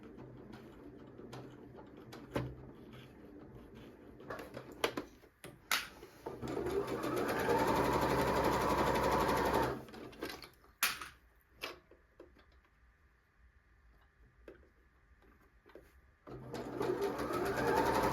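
A sewing machine stitches together the two sides of a zippy pouch, running in a steady loud whirr for several seconds amid quieter handling clicks and pauses, then starting up again near the end.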